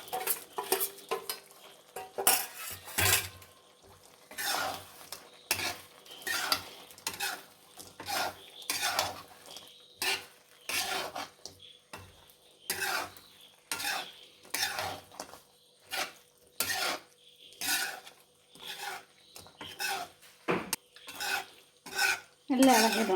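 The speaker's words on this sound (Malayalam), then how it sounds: "ഇതെല്ലാം കൂടി ഇട്ടിട്ടൊന്ന് ഇളക്കാമേ" A spoon stirs mixed ingredients in a cooking pot, scraping and knocking against the sides in a steady stream of brisk, rhythmic strokes, close and fairly loud, with a faint sizzle between them.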